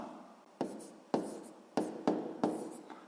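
Pen writing by hand in a notebook, several short strokes each starting with a tap and trailing off in a soft scratch, recorded close and quietly.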